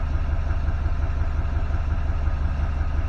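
A 2018 Duramax L5P 6.6-liter diesel idling just after starting, a steady low rumbling clatter that stays even and close throughout.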